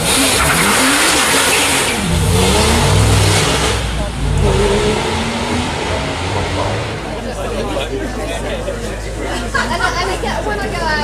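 A Porsche 911 GT2 RS launches hard, its engine revving loudly and roaring as it accelerates away. Voices chatter nearby over a continuous rumble.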